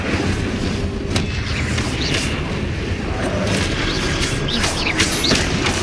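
A fire spell called Incendio roars in the wizard game Hogwarts Legacy amid continuous loud, dense blasts and whooshing rumble from combat spells, with no talking.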